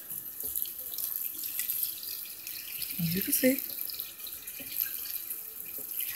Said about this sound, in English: So now you just add the water.